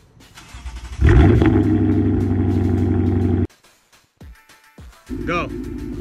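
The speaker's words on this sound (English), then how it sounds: "that revving part took a few tries, and having that exhaust blasted at my face" Lexus RC F V8 exhaust blasting in a loud, sustained rev close to the tailpipe, cutting off abruptly, then a brief quieter pause with a few blips before the engine roars again near the end.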